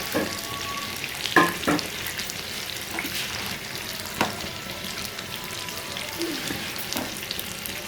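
Beef koftas fry in hot oil, giving a soft continuous sizzle with occasional light stirring clinks and bubbling, moderately close and without talk.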